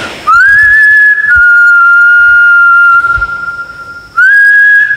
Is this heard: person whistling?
yes